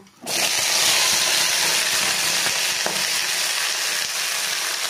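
Cubed eggplant and potato with bathua greens frying in a hot pan, a loud sustained sizzle starting abruptly, with occasional scrapes and knocks of a metal spatula stirring the mix.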